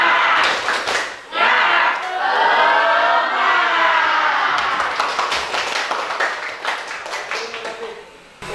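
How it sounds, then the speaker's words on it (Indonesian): A school class performs a rhythmic spirit clap (tepuk semangat): crisp hand claps in patterned bursts, mixed with group shouting and chanting, fairly close and lively. "Tepuk semangat."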